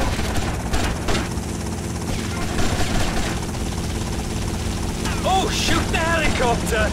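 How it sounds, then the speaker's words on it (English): Helicopter rotor and engine drone during a firefight in the GTA Vice City game, steady mechanical chopping under shouting voices and other game noise. "They've got a helicopter!"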